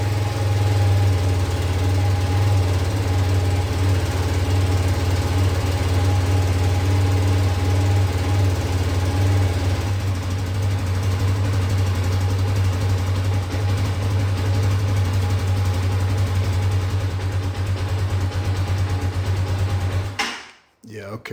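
A 2022 Bashan Brozz 250 Recon engine idles steadily and close by, a low rhythmic thrum with a slight drop in pitch midway before cutting off abruptly near the end.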